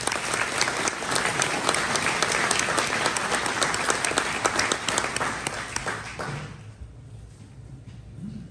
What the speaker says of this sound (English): If you will, give them a round of applause.